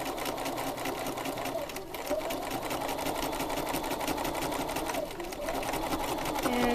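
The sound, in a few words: sewing machine free motion quilting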